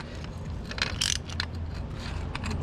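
Ratchet clicking as 10 mm nuts are tightened onto an exhaust valve bracket during an aftermarket exhaust install, a few short bursts of close mechanical clicks over a steady low hum.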